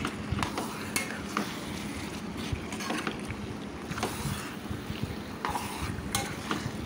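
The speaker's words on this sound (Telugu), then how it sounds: "యాడ్ చేసుకొని నెమ్మదిగా అంటే మెల్లగా ఆ కూర అంతా కూడా ఆ అల్లం వెల్లుల్లి పేస్ట్, ఉల్లిపాయ మొత్తం కూడా కూరకు పట్టే విధంగా స్లోగా కలుపుకుంటారండి" Chicken curry with ginger-garlic paste and onion, stirred slowly in a pan with a spoon, makes repeated scraping and sloshing strokes over a constant loud sizzle, with no voices.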